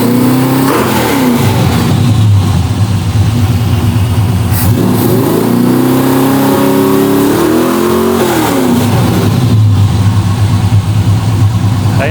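A car engine idling loudly up close, its pitch rising and falling through several revs before settling back to a rough idle.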